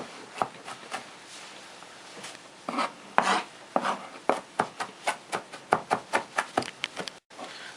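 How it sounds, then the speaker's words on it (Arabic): Ginger and garlic being minced on a board produce sharp knife chops, sparse at first and then settling into a fast, steady rhythm of close, crisp knocks with no talk. "افرم الجنزبيل مع الثوم"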